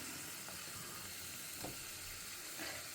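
Raisins fry in hot oil in a pan, giving a soft, steady sizzle with a few brief louder crackles as they turn red.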